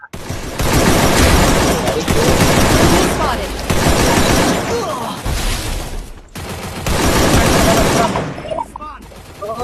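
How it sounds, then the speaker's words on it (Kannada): Rapid gunfire from the Free Fire battle royale game, dense, loud bursts rattling almost continuously with a short break midway, with voices talking over the shooting. "ತಲೆಗೆ ಶೂಟ್ ಮಾಡು ಬ್ರೋ"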